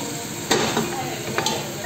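Okra stew with spices is stirred in a frying pan, a soft scraping over a low sizzle, with a couple of light knocks against the pan.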